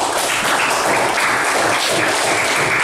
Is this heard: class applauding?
yes